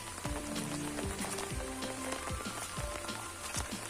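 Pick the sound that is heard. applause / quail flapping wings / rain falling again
rain falling again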